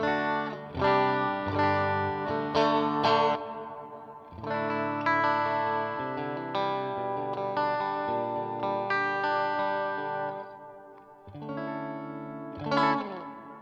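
Electric guitar chords through a Line 6 Helix reverb effect ring out with a spacious reverb tail, notes swelling and lingering as each strum fades into the next.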